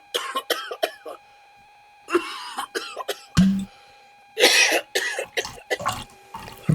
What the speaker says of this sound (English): It doesn't sound like a dry cough.